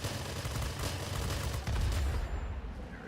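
Rapid bursts of aircraft machine gun fire in the World of Warplanes game, from a Tier X American F-86A jet fighter, rattling continuously over engine noise for a few seconds.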